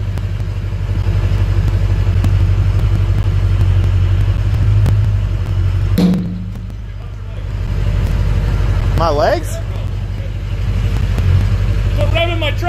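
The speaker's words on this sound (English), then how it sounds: "Stop revving my truck up like that." A diesel dually pickup idles with a deep, loud rumble that surges as it is revved, dips briefly partway through, then builds again, with people talking over it.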